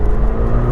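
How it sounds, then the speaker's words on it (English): A 2021 McLaren 720S in sport mode gives a loud, brief engine rumble from a quick throttle flip, close and low-pitched. "I'm just gonna do a quick flip of the throttle"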